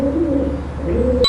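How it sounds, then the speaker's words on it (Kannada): A pigeon coos in a low, rolling, continuous call, close and fairly loud, with no voices. "ಪಾರಿವಾಳ"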